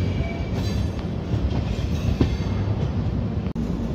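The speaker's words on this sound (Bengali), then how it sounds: "এদিক দিয়ে একটা মালগাড়ি পাস করছে আমাদেরকে। WTG 4G locomotive." A goods train hauled by a WDG-4G diesel locomotive rolls past a halted passenger train outside Jaipur station, a steady loud rumble of wagons with faint rail clatter throughout.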